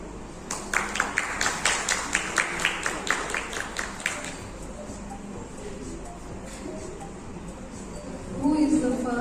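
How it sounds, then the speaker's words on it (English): A wedding reception crowd at a Pune resort claps for the groom's sister: a burst of rhythmic applause lasting several seconds, then it fades into room murmur and chatter. "let's have a huge round of applause for the groom's sister"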